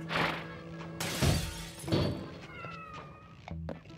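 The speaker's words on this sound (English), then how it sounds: "I hear meowing." A cat meows in the video game Quantum Conundrum, several short mews mixed with crashing, shattering game effects, fairly close and moderately loud, without talking.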